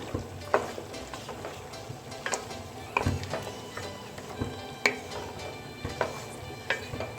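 Aloo gobi mixed vegetables with cauliflower are stirred in a pan, producing a gentle steady sizzle broken by intermittent utensil scrapes and clicks, close and quiet, with no talking.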